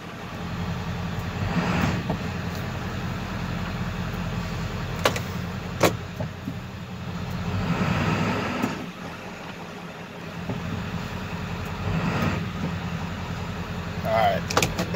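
A 7.3 Powerstroke diesel truck creeps forward without throttle, a low steady engine rumble with occasional clunks and knocks and faint, indistinct voices in the cab.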